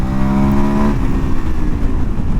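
A 2021 KTM 1290 Super Adventure S with a V2 engine holds a high, steady tone. The tone then falls away into a rougher, lower rumble as it shifts down. It is loud and close, with no talk over it.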